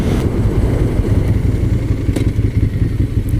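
A 2014 Ducati Monster 796 motorcycle engine running close and loud, a steady low rumble with rough mechanical clatter while riding on a road.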